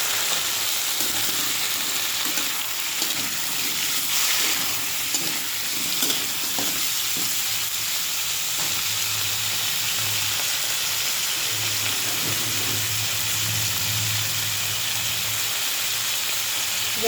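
Prawns frying in a pan with turmeric and other ingredients, a steady loud sizzle with occasional stirring scrapes running continuously.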